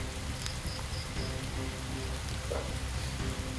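Steady rain falls outdoors, a soft, even hiss of drops that holds for the whole stretch without pause, faint and unbroken, with no voices.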